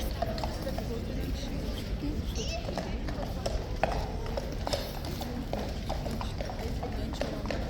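A slightly nervous Horse Guards horse sets down hooves in steady clip-clop taps on hard ground, moderately close, under a constant wash of crowd chatter and outdoor noise.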